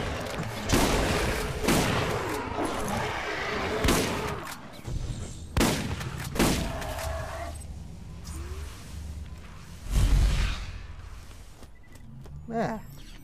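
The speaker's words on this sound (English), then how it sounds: "The sound those ancient grenades make is pretty flipping scary" Grenade explosions and combat in the video game Borderlands, with several heavy booming blasts spaced a few seconds apart among ongoing gunfire and rumble, loud and close.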